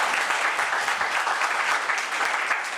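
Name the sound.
congregation applauding in church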